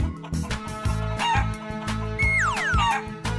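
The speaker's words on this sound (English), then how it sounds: "Chicken." A cartoon chicken clucks in a children's animal sound sequence, several short fowl calls with rising and falling squawks over a steady rhythmic music backing.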